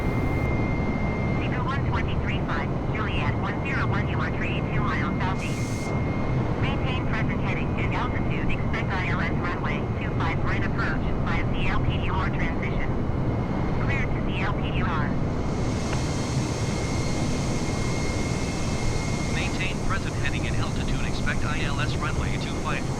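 Airbus A320 airliner in flight in a flight simulator, heading toward LAX: a steady, continuous jet engine drone with a constant roar throughout, with faint voice-like chatter mixed in underneath.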